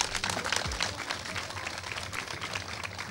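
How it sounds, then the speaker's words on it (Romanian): Audience at a Miss Plaja beauty pageant claps for the announced winner, a continuous crowd applause mixed with a low hum and steady ambient noise. "Aplauze!"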